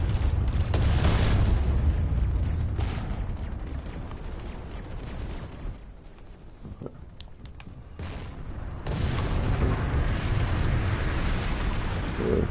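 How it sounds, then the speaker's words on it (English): Bombing explosions in a video game, heavy booming blasts that rumble loud at the start, fade to a quieter stretch with a few sharp hits, then swell back into a sustained roar. "they're bombing that"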